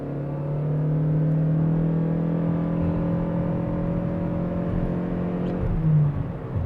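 A Toyota Crown Signia SUV with 240 horsepower accelerates hard, its engine holding a loud, steady harmonic drone and whine for about six seconds before easing off near the end, with no talking.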